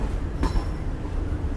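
The Shalimar Express rumbles at the Faisalabad railway station platform, a loud steady low roar from inside the train with a brief clink partway through.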